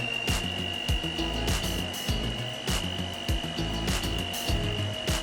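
A blender whizzes a hot milk mixture, a loud continuous motor whir with a steady high whine and regular pulsing churn as the contents swirl, heard alone without talk.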